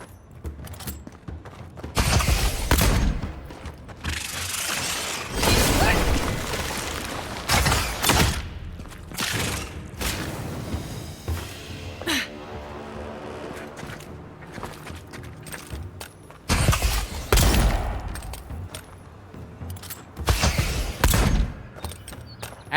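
Gunfire in the Avowed video game: a run of loud, sharp broadband blasts and impacts in irregular bursts over a dense, busy game soundscape, with no talk.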